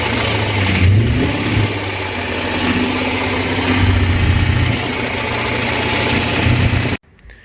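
A Corvette C5 V8 engine runs with a spinning clutch, heard up close from beneath the car as a loud, steady mechanical roar with slight revving swells, cutting off abruptly at the end.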